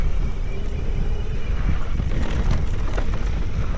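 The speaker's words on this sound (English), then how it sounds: "Wow, it's windy." Strong wind buffets the microphone in a steady, rumbling roar with gusty fluctuations throughout, no voices.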